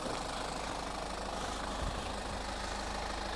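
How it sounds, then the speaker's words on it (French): A 2017 BMW X3 20d xDrive diesel engine idling, a steady, dense low rumble with a faint knocking texture that holds evenly throughout, close and continuous with no voices. "le moteur qui est actuellement actif, je vais l'éteindre"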